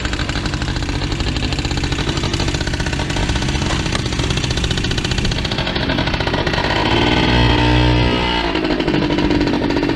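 A cheap moped engine runs steadily after a first kick start, a loud, continuous buzzing putter that holds close and even throughout, with the pitch shifting slightly near the end as the revs change.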